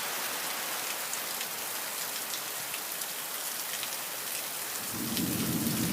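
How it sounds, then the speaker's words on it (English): Steady heavy rain pours during a thunderstorm in Port Saint Lucie, Florida, a dense even hiss close by, joined near the end by a low rolling rumble of thunder. "this is where the thunder and lightning are."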